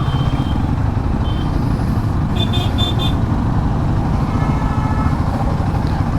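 Road traffic passes around a rider on an adventure motorcycle on a congested highway, with a constant dense drone of engines and road noise and a few short horn toots near the middle.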